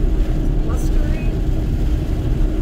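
Gale-force tropical storm wind roaring across Juno Beach in South Florida, a loud, constant low buffeting rumble that fills the whole clip without letting up.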